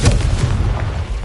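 Confringo blasting spell cast in Hogwarts Legacy, a loud, booming burst heavy in low rumble that rolls on without a break for just over a second.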